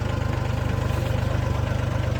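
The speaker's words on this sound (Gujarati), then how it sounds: "આ જોયું અમારું ટ્રેક્ટર છે, 2001નું મોડલ છે, બહુ જૂનવાણી ટ્રેક્ટર છે." An old 2001-model tractor engine idles nearby with a steady, rapid low chugging pulse and faint rattling vibration throughout.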